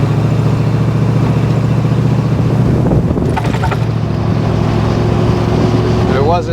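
A 1962 Austin-Healey engine idles unevenly and stumbles as it struggles to take throttle, a steady low mechanical drone with a brief rougher surge midway, recorded close up.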